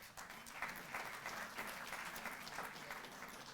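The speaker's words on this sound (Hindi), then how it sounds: "तालियां जोरदार।" A hall audience at a felicitation ceremony for Asian Games 2022 medal winners claps continuously, a faint, wash-like applause that holds steady throughout.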